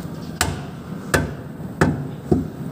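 A hammer strikes metal four times at a steady, unhurried pace while a differential stabilizer is changed on a Mercedes-Benz Actros truck; each blow is a sharp, close, ringing clank with no talk over it.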